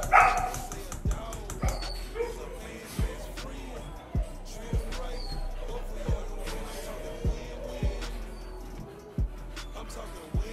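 Several dogs bark excitedly and repeatedly in regular bursts before feeding, fairly close, with a person talking over them.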